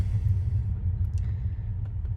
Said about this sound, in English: It does sound like a really good V6 or even a V8